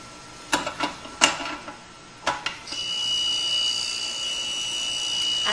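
A drill bit sharpening machine with a gravity-fed adjustable split port grinds a drill bit, handling bits from 3 to 21 mm. Several sharp grinding bursts come first, then a steady high whine runs on alone and close.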